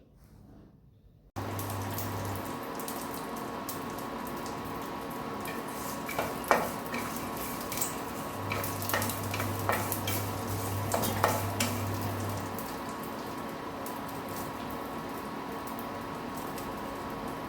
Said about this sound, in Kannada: ಶೇಂಗಾ ಬೀಜ ಫ್ರೈ ಆಗ್ತಾ ಇದೆ. ನಿಮಗೆ ಗೊತ್ತಾಗ್ತಾ ಇದೆಯಲ್ಲ ಸೌಂಡಲ್ಲಿ